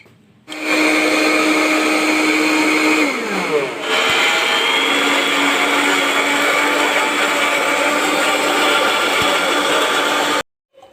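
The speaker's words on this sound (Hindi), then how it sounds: "अब हम इसको ग्राइंड में पीसने लगे हैं।" An electric grinder pulverises burnt guava into powder with a loud, steady motor whine that dips briefly in pitch early on, holds for about ten seconds, then cuts off abruptly.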